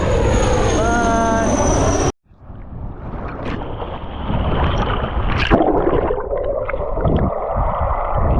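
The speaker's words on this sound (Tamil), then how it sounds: "அந்த ஹெலிகாப்டர் மறுபடியும் வருது." A helicopter flies overhead in Chennai. A loud, steady engine drone cuts off abruptly after two seconds, then a noisy rumble with clatter carries on.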